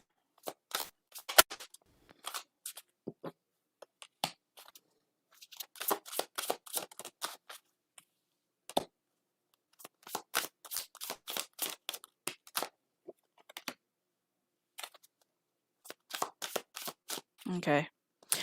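Tarot cards are shuffled up close in quick riffling bursts of sharp flicks and snaps, separated by short silences.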